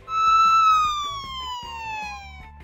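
A police car siren from a children's cartoon sounds one loud, clear falling wail over a low music bed.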